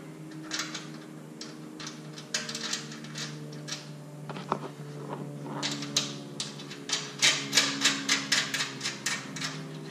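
A nut and washer are tightened onto a mount with a metal tool, close by, in a run of quick ratcheting clicks that speed up and grow louder toward the end, with no voices.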